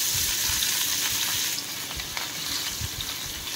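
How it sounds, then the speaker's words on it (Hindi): Fish sizzles and spits steadily in hot mustard oil in a frying pan, a loud, dense crackle running without pause, with occasional low bumps from the pan. "तेल हमर गरम हो गला परे एबे एदरे हमें माछ पकेइबा।"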